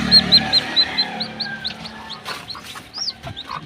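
A chicken clucks close by in short, repeated bursts, with faint bird chirps in the background.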